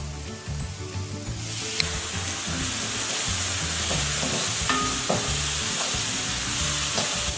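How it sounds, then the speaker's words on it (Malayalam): Soy sauce hits a hot stir-fry pan of vegetables and pepper for fried rice, setting off a loud, continuous sizzle with scraping and stirring clatter close by. "ഇനി ഇതിലേക്ക് 1 ടേബിൾ സ്പൂൺ സോയാ സോസ് കൂടി ഒഴിച്ചു കൊടുക്കാം."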